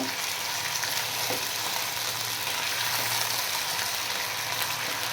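Chicken karhai pieces frying in plenty of oil until brown, a steady dense sizzle and crackle that holds evenly throughout with occasional soft stirring knocks, close and unbroken by speech.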